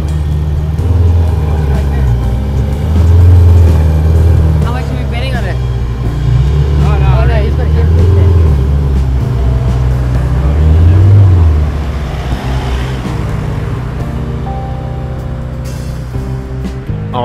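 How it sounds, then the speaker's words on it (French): A metallic red Ferrari 488 Spider rumbles in as it arrives on a Monaco street, its low engine drone rising and falling under steady nearby talk. "Il y a une magnifique 488 Spider qui vient d'arriver."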